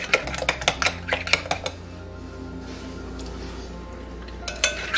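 Chicken salad stirred by hand in a bowl, a quick run of clinks and scrapes from a utensil against the dish in the first couple of seconds, then a quieter steady stretch with a few more taps near the end.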